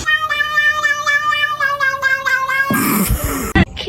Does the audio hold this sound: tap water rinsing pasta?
no